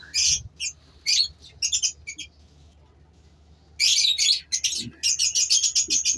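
Lovebirds in a breeding aviary in Karachi chirp in quick, bright bursts, with a pause before a louder, denser run of overlapping tweets; nearby, fairly loud, no talk.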